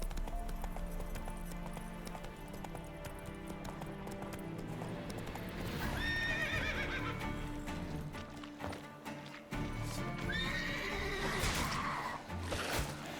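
A horse in Witcher 3 gallops with steady clip-clop hoofbeats under game music and effects, letting out a couple of whinnies midway and again near the end.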